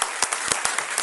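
A short burst of applause from people at a child and adolescent protection committee session, brisk overlapping claps in a quick irregular rhythm, close and fairly loud.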